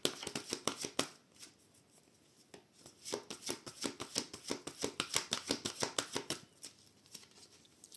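A deck of cards being shuffled and cut for a reading: quick riffling bursts of crisp flicks, close and quiet, with a short pause between runs.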